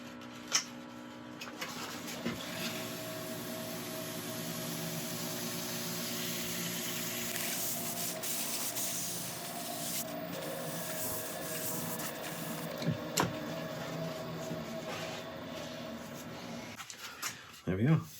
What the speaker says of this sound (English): I'm going to buff this in